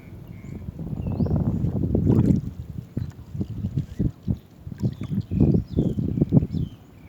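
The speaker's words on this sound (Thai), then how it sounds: "โอ้ลม" Strong wind at sea buffets the microphone in heavy low rumbling gusts, surging and dropping in rapid bursts on a beach shore, loud and close throughout.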